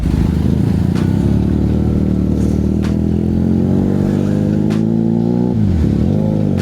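A new motorcycle, low on fuel, idling loudly and steadily close by, its low throbbing rumble shifting slightly in pitch toward the end.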